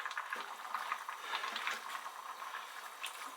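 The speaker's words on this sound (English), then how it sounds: "And we'll give it a stir to see where we are." A spoon stirs Bigos, a Polish hunter's stew of meat and cabbage with tomato passata and water, in a pot: soft wet scraping and gentle bubbling, quiet and close, with no talking.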